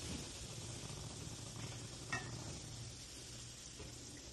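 Luchi deep-frying in olive oil blended with a little ghee gives a steady, close hiss and sizzle throughout, with a brief louder crackle and bubble burst partway through.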